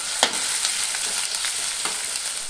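Chopped onion and jackfruit sauté in hot oil with a dense, even sizzle, punctuated by a few soft scrapes of stirring close by.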